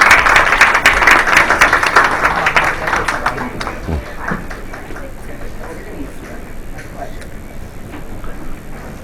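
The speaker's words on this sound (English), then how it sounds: "Please give a big round of applause to ex-CEO Linda Yaccarino." Applause at a Cannes panel event as a tech executive is welcomed onstage: loud, dense clapping at the start that thins and fades after a few seconds into quiet room noise with scattered stray claps.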